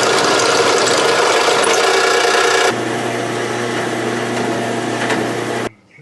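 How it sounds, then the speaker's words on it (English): A drill bores through a piece of angle iron with a steady, harsh grinding rasp. The pitch and load shift partway through, and the drilling stops abruptly near the end. "I'm going to drill this out"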